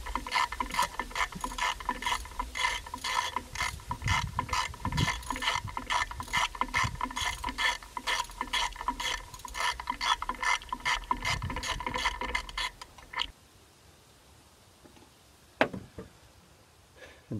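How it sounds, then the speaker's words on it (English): A six-cylinder car engine idles with a steady, rapid mechanical rhythm for about thirteen seconds, then cuts off, leaving near-silence broken by a single sharp knock. "As you can hear, it's running on all six cylinders now."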